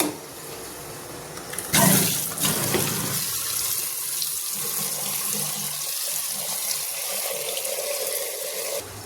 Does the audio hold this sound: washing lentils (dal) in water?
yes